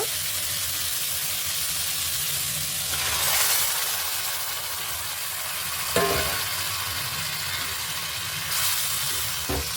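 Boiled mixed vegetables fry in cooked-down spice masala in a pan, giving a steady close sizzle and hiss with occasional stirring scrapes.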